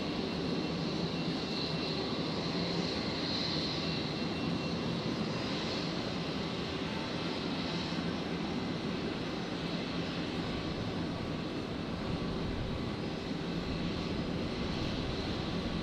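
Virgin Australia Boeing 737 taking off from runway 01 right at Brisbane Airport at night, a steady distant engine roar that holds without a break and swells slightly, no talking.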